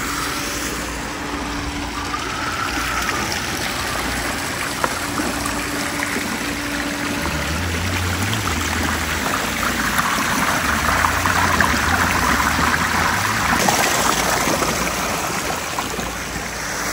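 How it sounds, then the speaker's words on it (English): Water from a backyard pool waterfall and grotto at a heated pool home in Lake Havasu pours and splashes in a steady, continuous rush. A faint engine-like rumble sits underneath it, and no one speaks. "Here's the back shot of the waterfall and grotto."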